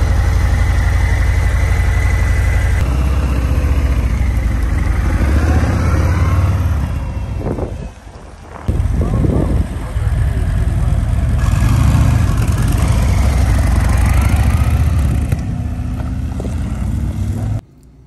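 Engine of a 2022 Harley-Davidson Fat Bob motorcycle at a dealership, a steady loud low rumble throughout with a brief dip mid-way, then a surge of revving, with faint talk underneath.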